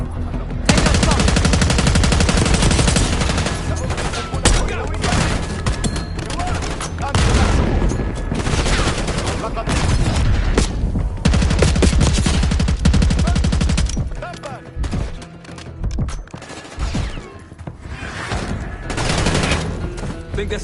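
Sustained, loud rapid gunfire and bursts from a PS4 shooter game, continuous dense automatic shooting with occasional booms and a short lull before it resumes, with voices faintly underneath.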